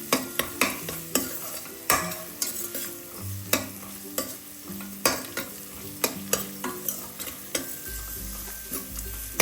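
Onions with ginger garlic paste and green chillies fry in a pan, a continuous sizzle punctuated by a steady rhythm of close, sharp spatula scrapes and taps throughout.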